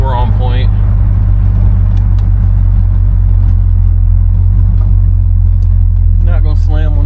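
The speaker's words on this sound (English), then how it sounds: "The motor sounds good. Just kind of cruising" A 1969 Buick Electra 225 engine drones steadily while cruising, a loud, low, even rumble heard from inside the car, with brief bursts of talking at the start and end.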